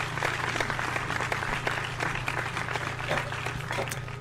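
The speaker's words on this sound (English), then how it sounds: "A round of applause for my fellow graduates." A crowd of graduates claps in the horror video game The Crooked Man, a dense, continuous round of applause at even loudness with no talking over it.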